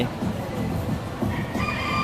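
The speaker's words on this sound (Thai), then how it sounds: "ตัวต่อไปเป็นไก่ซีไบนะครับ" A Sebright chicken crows close by, its drawn-out call rising in the second half above a busy, noisy background.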